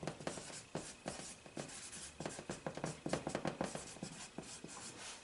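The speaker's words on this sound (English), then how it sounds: "Just take your piece of paper and mark it off into 4 quadrants" A pen marks lines on a sheet of paper in quick, rhythmic scratching strokes, close and quiet with short pauses between bursts.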